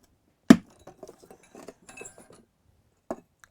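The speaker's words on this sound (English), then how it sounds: "I've since discovered you only need to score once. And it makes the break much cleaner." A scored ceramic tile snaps with one sharp crack, then small clinks and ticks of pieces shifting, and a second brief knock near the end, close and crisp in a quiet room without speech.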